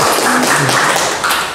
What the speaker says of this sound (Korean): 좋은 강의해 주신 최석유 원장님께 박수 한번